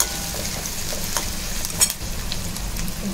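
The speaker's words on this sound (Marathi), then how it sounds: "आता हे छान परतून घेऊया।" Green chili, ginger and curry leaves sizzle as they are sautéed in a pan, a steady crackling hiss at moderate volume with a couple of brief stirring clicks.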